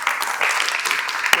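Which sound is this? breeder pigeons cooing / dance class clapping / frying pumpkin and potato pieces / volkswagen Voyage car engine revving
dance class clapping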